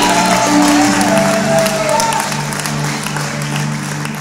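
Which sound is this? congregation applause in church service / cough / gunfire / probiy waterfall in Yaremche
congregation applause in church service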